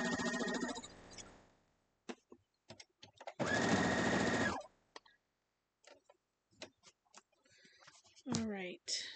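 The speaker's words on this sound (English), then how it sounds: "The final stitch on the Harry Potter blocks." A sewing machine stitches Harry Potter quilt blocks in two loud, steady bursts, a short run at the start and a longer one in the middle, with scattered clicks and handling noises between them and a brief voice near the end.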